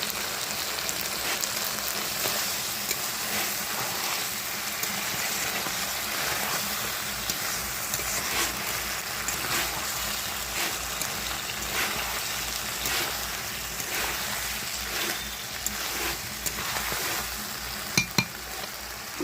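Chicken curry sautéing in released oil in a pan, a continuous close crackling sizzle like light rain, steady throughout with a few faint stirring scrapes and a brief clink near the end.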